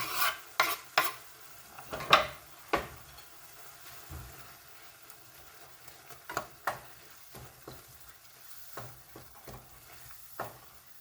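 Jalapeno, sweet pepper and garlic stir-fried in a pan with eggplant, giving quiet sizzling under repeated scraping and stirring clatters of a utensil against the pan, with no voices.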